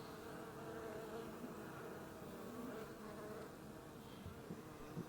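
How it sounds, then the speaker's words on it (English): Honey bees buzzing around a hive during cleansing flights, with some bees scenting, a dense steady hum of many insects close by with occasional louder passes. "some of these bees, like this bee is scenting"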